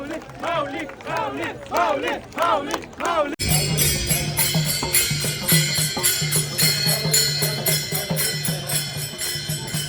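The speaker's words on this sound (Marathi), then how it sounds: "गर्दी आहे ब्रिज पण पूर्ण भरलेला आहे रिंगण बघण्यासाठी" Huge crowd of pilgrims gathered at the Pandharpur Wari ringan: loud massed voices and chanting with shouts, first rising and falling in waves, then swelling into a dense roar with music in it.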